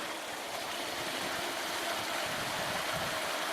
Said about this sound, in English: Got our water flowing.